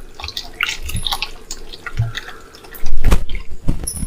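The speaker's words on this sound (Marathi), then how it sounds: "परत आता पाणी टाकते आहे" Water poured onto washed soybeans in a kitchen, splashing and dripping close by in uneven bursts, with a louder gush toward the end.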